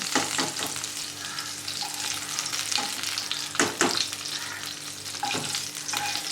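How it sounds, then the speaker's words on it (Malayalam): Okra sizzles steadily in hot oil in a pan, a continuous crackling fry broken by several sharp scraping stirs, close and fairly loud with no voices. "ഇതുപോലെ തന്നെ നമുക്ക് ബാക്കിയുള്ള വെണ്ടക്കയും വറുത്തെടുക്കാം."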